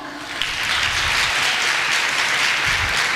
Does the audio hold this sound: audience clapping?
yes